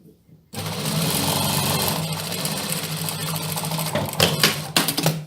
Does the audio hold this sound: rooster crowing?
no